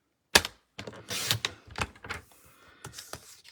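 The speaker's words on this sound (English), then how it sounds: "I'm going to cut a 1/2 inch strip" Paper trimmer or scissors cutting a half-inch strip of basic white paper, heard as a few sharp, close snips and clicks with short pauses between them.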